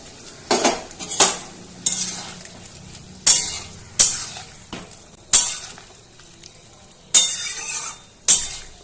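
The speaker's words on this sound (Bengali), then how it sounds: "এবার নাড়িয়ে চাড়িয়ে ভালো করে মিশিয়ে দিচ্ছি" A spoon stirs potol posto, pointed gourd with poppy seed paste, in a pan, giving repeated scraping clinks against the metal at a slow, uneven rhythm over a quiet sizzle.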